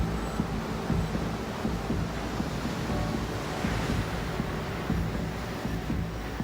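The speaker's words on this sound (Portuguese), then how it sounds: "As ondas estão mais altas porque um furacão se aproxima da ilha." High surf pounds steadily on an island shore as a hurricane approaches, with strong gusting wind roaring across the microphone in a continuous, loud wash of noise.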